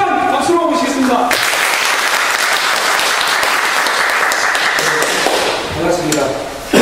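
A crowd at a union safety activists' retreat welcomes a branch leader with loud, continuous clapping that fills most of the clip, with an announcer's voice briefly at the start and end.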